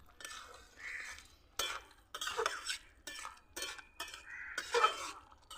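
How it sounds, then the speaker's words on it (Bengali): Stirring red amaranth sour curry with shrimp in a pan: a spoon scrapes and clinks against the metal in uneven strokes and pauses, close and soft with no talk. "এবার একটু নেড়ে চেড়ে নেব।"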